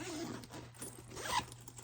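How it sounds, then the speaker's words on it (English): A small zipper on a backpack's front compartment is pulled open or closed, a soft, steady rasping close by in a quiet room. "It has a little zipper."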